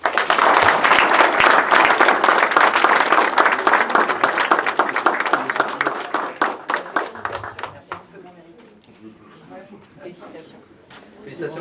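Crowd applauding at a commemoration medal ceremony, sustained clapping that fades out, followed by a voice speaking.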